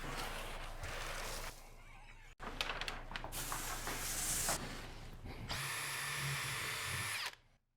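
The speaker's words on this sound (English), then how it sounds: "We're pre-drilling the screw holes that we'll use to fasten the dowel rods to the uprights" A power drill pre-drilling screw holes in wood whirs steadily in bursts, briefly stopping and restarting, with a high-pitched whine rising near the end before cutting off.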